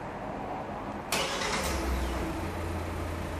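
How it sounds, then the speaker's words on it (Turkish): A Kia Sportage engine cranks and catches about a second in, then settles into a steady low idle, heard close and alone. "Çalıştırın arabayı."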